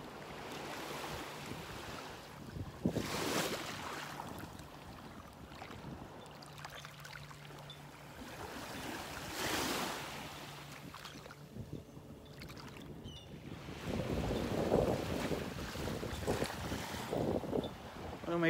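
Waves and wind on a foggy beach in North Naples, Florida, with steady surf wash rising in periodic louder swells and gusty wind noise throughout, no voices.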